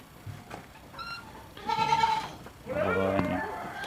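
Goats in a breeding pen, where pregnant does about to kid are kept apart, bleat in two loud drawn-out calls after a shorter one, close by, with a faint murmur of people around them.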